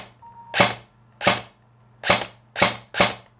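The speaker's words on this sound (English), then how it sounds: "the idea here is to keep firing this until it sounds the smoothest, has the less grinding and the least whiny sound" An airsoft gun being test-fired after its motor height adjustment, five sharp close single shots at uneven spacing with a faint mechanical whir between them, loud and alone with no talking.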